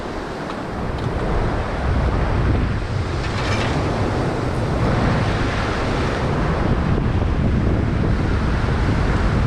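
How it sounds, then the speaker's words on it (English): Ocean surf at an Australian beach during fishing, waves roaring loudly and continuously, with heavy wind buffeting the microphone throughout. "the waves push it right in"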